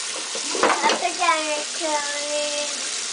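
Water runs and splashes while a young child's hair is rinsed in a home bath, a steady wet hiss with a few sloshing bursts, and high, singsong child vocalizing over it.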